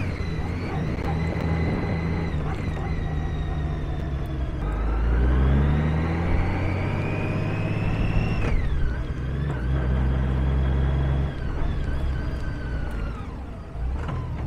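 2006 Honda GL1800 Roadsmith HTS1800 trike motorcycle easing into reverse with a rising electric whine, then pulling away in first gear with a low engine rumble and a gear change, close and steady.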